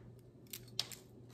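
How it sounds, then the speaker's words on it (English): Garden scissors snip a plant stem for propagation, a couple of quiet crisp clicks close by in a calm setting. "I'm just going to cut straight here."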